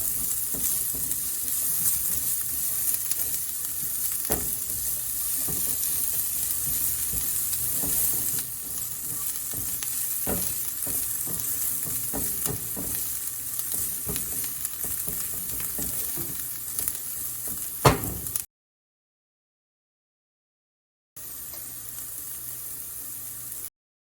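Onions frying in a pan until translucent, a steady sizzle with frequent scraping and stirring strokes, fairly close, ending after a silent gap with a quieter stretch.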